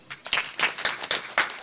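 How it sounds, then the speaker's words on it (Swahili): Audience applause at a World Population Day event, a run of uneven clapping bursts rising and falling close by, with no talk over it. "Tafadhali tumpigie makofi tena."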